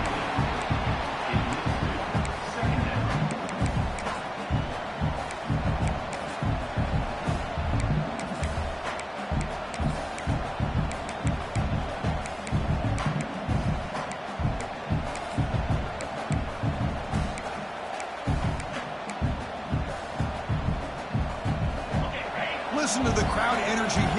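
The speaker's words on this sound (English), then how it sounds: "Listen to the crowd energy here in the early going." A dense football stadium crowd roars continuously at an early stage of a game, a steady loud wash of many voices with scattered shouts and claps throughout.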